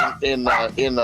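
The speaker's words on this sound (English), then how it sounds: "sorry, you got the dogs barking back here" Dogs bark in short, close bursts in a room behind someone racing in an iRacing sim, two or three sharp yips loud and near.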